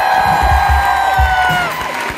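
A concert crowd at the Trianon cheers and applauds loudly after a song, whoops and claps blending into a dense roar that fades slightly toward the end.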